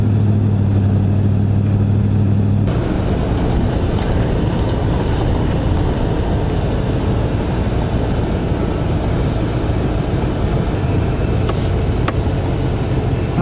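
High-mileage 2001 Ford F150 pickup truck driving, a loud steady engine and road drone heard from inside the cab, with a low idle-like hum at first giving way to constant rolling noise.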